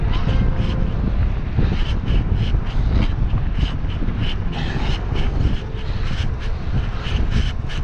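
Steady roar of wind buffeting the microphone, loud and constant throughout, with faint higher sounds flickering above it.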